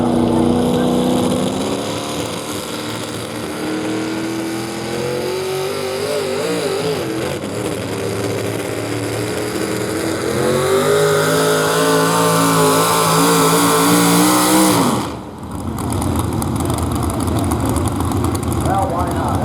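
Modified 4x4 pulling trucks at a Lucas Oil truck pull on a clay track, a loud sustained engine roar with rising revs and harmonics, a brief dip near the end, then full power again.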